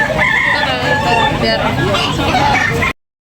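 Gamecocks crow and cluck at a crowded market in Tabunok, Talisay, Cebu, loud and close against babbling voices, with the sound cutting off abruptly at the end.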